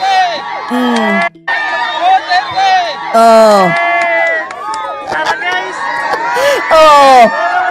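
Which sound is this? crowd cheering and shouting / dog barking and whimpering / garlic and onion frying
crowd cheering and shouting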